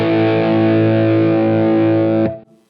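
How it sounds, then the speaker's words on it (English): Distorted electric guitar chord played through a Line 6 Helix using an internal 57 cab, a loud, sustained buzzing wall of tone held for about two seconds before it is cut off and fades quickly. "I'll hit a chord again and then just kind of roll it up to see where we can hear it come in."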